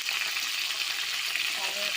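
Sliced potatoes fry in a pan of hot oil, giving a steady, dense sizzle that holds level and close for the full stretch with no voices.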